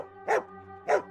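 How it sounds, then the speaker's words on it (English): A dog barking twice in a parked car, two short sharp barks about half a second apart, close and clear over a low steady hum. "My dog started barking,"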